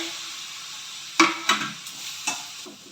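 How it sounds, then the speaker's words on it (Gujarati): Cumin, red chili and asafoetida go into hot oil for a dhokla tempering, a steady hiss broken by several sharp crackling spurts as the spices hit the oil, close and alone. "તરત જીરુંનો વઘાર કરવાનો, પછી આ લાલ મરચું, ત્યાર પછી થોડી હિંગ નાખવાની ને ઢોકળાનો વઘાર કરવાનો"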